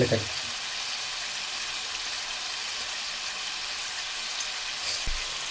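Cumin seeds sizzling in hot oil as tempering for a crispy potato fry, a dense steady hiss of frying that stays level throughout, close and alone.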